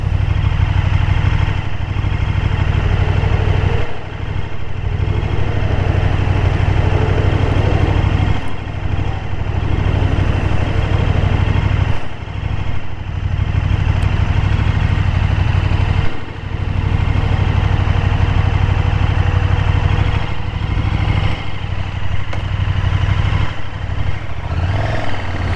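A KTM Super Duke motorcycle engine runs loud and close, a continuous deep throbbing drone that dips and swells briefly several times, with no voices.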